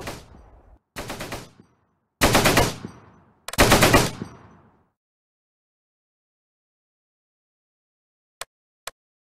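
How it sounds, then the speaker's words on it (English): Heavy gunfire in a video game battle: four loud, close bursts of rapid automatic fire in the first five seconds, followed by silence and two sharp isolated shots near the end. "We're under heavy fire."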